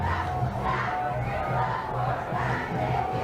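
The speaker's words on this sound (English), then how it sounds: "It's a great crowd tonight here at Handle Stadium." A packed home crowd roars steadily at a homecoming high school football game against Tesoro at Handle Stadium, a dense wall of cheering and shouting with swelling pulses throughout, no talk over it.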